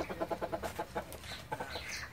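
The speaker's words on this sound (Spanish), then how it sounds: "el cacareo de las gallinas y el pío pío de los pollites eran tan fuertes que uno podía quedarse sordo" Hens cluck in a rapid, rhythmic run of short pulses, with thinner cheeping from chicks mixed in. The flock sounds close and busy, with no talking.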